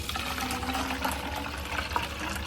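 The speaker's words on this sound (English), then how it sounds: "I'm going to fill it to that fill line with warm water." Warm tap water runs steadily into a plastic container with a marked fill line, a continuous close splashing rush that holds at an even level for the whole stretch.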